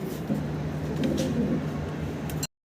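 Pigeons at a bird seller's place coo softly in a low, steady murmur under a constant hum, ending abruptly in silence.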